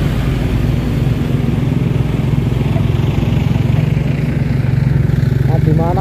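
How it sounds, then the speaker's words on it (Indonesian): Four giant water suction pump engines run at a flooded roadside in Demak, Central Java, a loud continuous droning rumble with people talking over it. "Nah, ini tampak dia alat pompa penyedot raksasa ini. Ini ada 1, 2, 3, 4. Ini ada 4 mesin ya."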